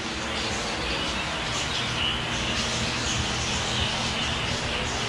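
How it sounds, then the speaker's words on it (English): Parakeets in an aviary at Gatorland in Orlando chirp faintly through a dense wash of broadband noise, with high, soft tweets scattered across the steady background. "Parakeets or something."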